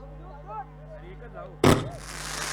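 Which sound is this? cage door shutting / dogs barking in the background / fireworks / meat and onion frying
fireworks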